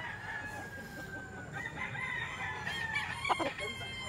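Young stag roosters, gamecocks offered for sale, crow and cluck faintly amid background murmur, with one sharper crow near the end.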